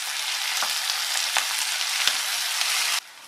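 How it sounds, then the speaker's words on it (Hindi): Onions sizzle steadily in a hot pan for bhuna mutton, a dense, close frying hiss with a few soft stirring knocks, until the sound drops away abruptly near the end. "अब मैं इसमें डाल रही हूँ प्याज। इस प्याज को हमें ब्राउन होने तक भूनना है।"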